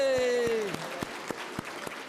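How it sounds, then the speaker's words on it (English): A crowd applauds little children at the relaunch of a Right Start Programme, with a few sparse, evenly spaced claps following a high, drawn-out voiced cheer at the start. "let us give them another big round of applause"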